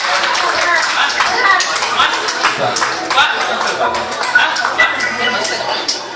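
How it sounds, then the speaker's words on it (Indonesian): An audience bursts into lively applause, a dense, steady patter of many hands clapping that carries on for several seconds, with voices and chuckling mixed in underneath. "Tepuk tangan dong yang meriah dong"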